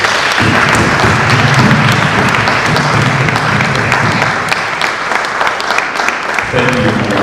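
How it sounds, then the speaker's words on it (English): A large audience applauds steadily at a legal association's law week event, dense sustained clapping filling the room from start to finish, loud and close. "A huge round of applause."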